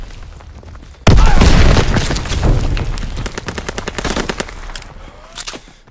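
Call of Duty WWII online multiplayer battle: a loud boom followed by rapid machine-gun bursts, close and dense, the rattle thinning into spaced shots toward the end.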